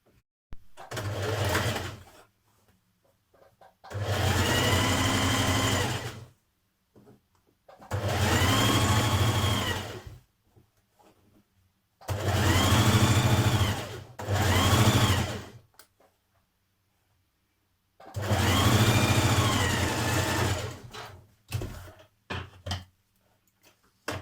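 A sewing machine stitches the 1.5 cm centre seam of a Burda skirt in five separate bursts of a few seconds each, with quiet pauses between them and no talking.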